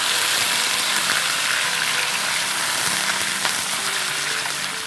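Two pounds of chicken hitting hot aromatic oil for a chicken korma, a loud continuous sizzle and crackle of frying with no talking.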